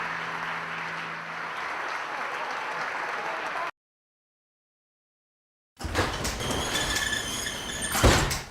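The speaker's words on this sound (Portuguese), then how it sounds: "Resta somente o nosso aplauso." Steady applause from a crowd fills the first few seconds, then silence, then another burst of clapping with some clatter and noise.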